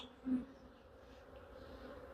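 Honey bees hum faintly during a hive inspection, a quiet, steady buzz with one brief louder bee passing close near the start.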